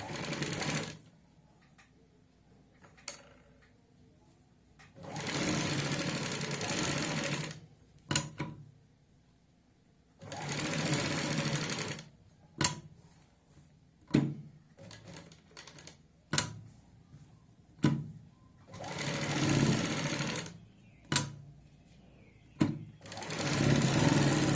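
A sewing machine stitches the collar neck of a kurti, running in several loud, sustained bursts separated by pauses and a few sharp clicks, close up with no talking.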